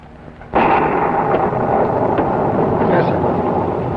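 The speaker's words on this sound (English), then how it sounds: "I'm worried about that storm." Thunder crashes during a storm in a 1952 television drama, a sudden loud clap that rolls on as sustained heavy rumbling for several seconds.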